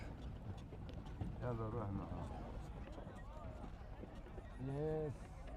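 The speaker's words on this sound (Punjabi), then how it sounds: "ਬੜੇ ਲੰਬੇ ਟਾਈਮ ਬਾਅਦ ਚੜੇ ਯਾਰ ਘੋੜਾ ਗੱਡੀ ਤੇ" Horse-drawn carriage near the pyramids in Egypt, hooves clip-clopping in a steady rhythm close by, with a horse's whinny and people talking over the ride.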